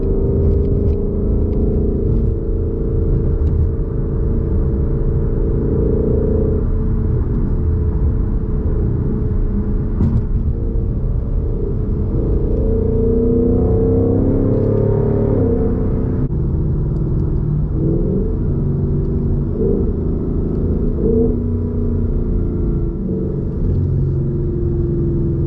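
A 2020 Ford Mustang GT with a Borla exhaust cruising at night, its deep steady engine rumble droning throughout with a few shifts in pitch as it accelerates and eases off through corners, no talking.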